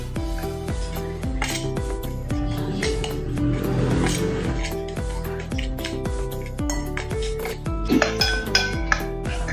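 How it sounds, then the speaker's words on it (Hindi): Salt and asafoetida being stirred into a baingan masala: repeated clinks and scrapes of a spoon against a metal pot, close and steady, with a few sharper knocks toward the end. "अभी इसको हम मिक्स कर लेंगे अच्छे से।"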